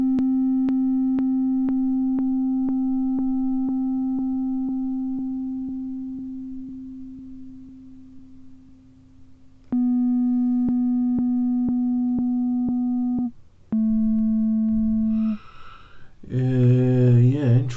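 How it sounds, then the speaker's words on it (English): Steady pure tone from a modular synthesizer sine wave oscillator with sync, holding one pitch for about ten seconds, then stepping through shorter sustained tones before turning buzzy and harmonically rich near the end, loud and alone. "Let's take a sine wave output from there,"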